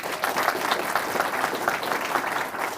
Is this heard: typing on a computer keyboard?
no